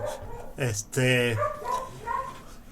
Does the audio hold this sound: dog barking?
yes